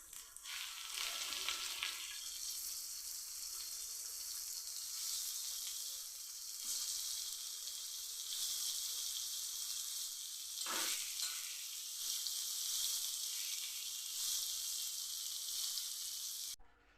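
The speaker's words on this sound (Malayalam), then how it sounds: "നമുക്ക് അതിന് തന്നെയാക്കി മീൻ ഇട്ട് കൊടുക്കാം" Fish frying in hot oil on a bed of curry leaves gives a loud, steady close sizzle that runs throughout, with a brief stir or disturbance midway and no talk.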